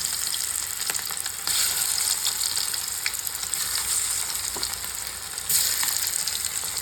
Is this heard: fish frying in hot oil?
yes